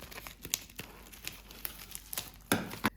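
A plastic packet holding an embroidery kit is opened by hand, giving scattered crinkles and rustles with a few sharper tearing pops, the loudest near the end, close by and without talk.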